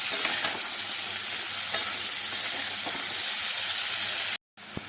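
Cauliflower pieces with a little salt frying in oil in a kadai, a steady bright sizzle with intermittent stirring clatter, close and loud, cutting off abruptly near the end.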